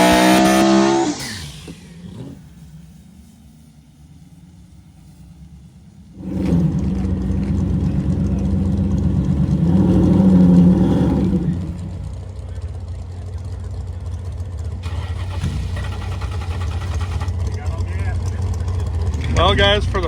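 El Toro race car doing a burnout in a burnout box at a Cleetus Christmas Tree Race event: a loud, sustained engine roar that swells and holds, a quieter idle rumble beforehand, with people talking over it.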